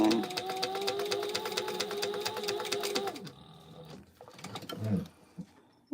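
A sewing machine stitches in a fast, steady rhythm for about three seconds, then stops as the bobbin runs out, followed by a few quiet clicks and handling noises.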